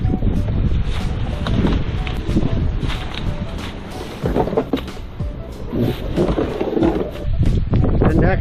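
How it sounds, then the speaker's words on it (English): Wind gusts and rumbles against the microphone while kayaking through a wilderness waterway in Michigan, loud and uneven, with scattered knocks and water sounds beneath it. "Thought I'd be sheltered from the wind back here, but it is blowing."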